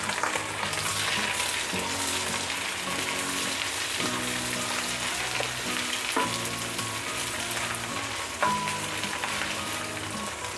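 Ginger strips frying in hot oil for a paksiw of milkfish with pork belly: a loud, dense, continuous sizzle with occasional brief clatter from the pan, heard alone without voices.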